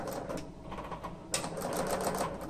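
A VETRON 5400 horizontal cylinder-arm industrial sewing machine runs quietly, breaking into a fast, even rattle of stitching partway through.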